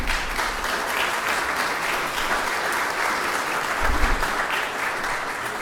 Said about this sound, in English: Would y'all please give them a little recognition clap?